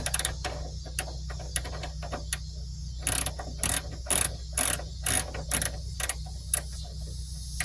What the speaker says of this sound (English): I do like the invention of ratcheting wrenches.